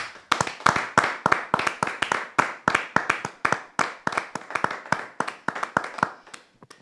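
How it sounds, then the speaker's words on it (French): A church congregation applauds in a steady run of sharp, rhythmic claps, fairly close and even, with little talk underneath. "On peut vraiment acclamer le Seigneur"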